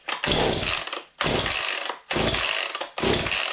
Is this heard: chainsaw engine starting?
yes